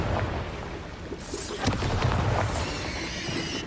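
A Confringo spell explosion in Hogwarts Legacy, a fiery burst that booms and crackles with a rumbling tail, followed by a second flaring whoosh, fairly quiet overall.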